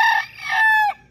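A Maclean hatch gamefowl rooster crows once, close and loud, a single harmonic cock-a-doodle-doo lasting about a second on a farm.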